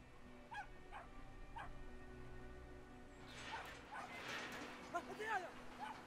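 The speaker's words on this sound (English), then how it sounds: "Aw, that's a little dog." A little dog in the video game Brothers: A Tale of Two Sons yips and whimpers in a quick run of high, short cries over game ambience, following a few earlier faint yelps.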